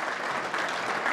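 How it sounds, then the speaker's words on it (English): A crowd applauds for a champion at a football club's medal night, a brief, dense and steady burst of clapping with no one speaking. "Round of applause for the champ"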